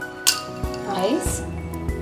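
Ice cubes clink against a glass of kulukki sharbat a few times, sharp and close, while someone talks over them.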